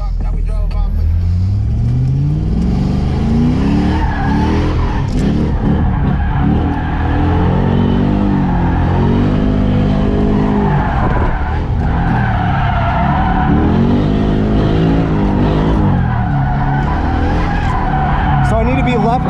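An LS3-swapped Nissan 240SX drifts at a track day, its tires skidding and squealing continuously as the V8 engine holds high revs through a transition, loud and close, with someone talking over it throughout.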